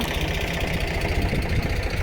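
A farm tractor loaded with castor beans idles nearby, a steady close rhythmic engine chug with a knocking pulse and no talk.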